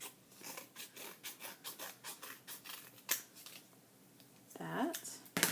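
Paper being cut with scissors for a scrapbook: a run of quick, rhythmic snips close by, followed by a few slower cuts, with a brief voice near the end.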